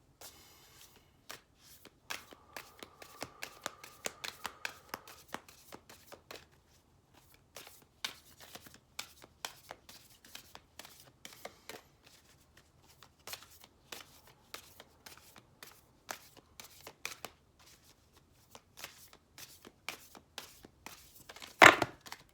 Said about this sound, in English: Let's first start off with the Soul Coaching Oracle Cards by Denise Lynn.